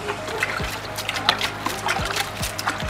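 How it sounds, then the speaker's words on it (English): Water is poured onto manure-mixed soil filling a moisture garden bed basin, giving a soft, uneven trickle and splash with scattered drips, faint and close, with no talking. "Add water"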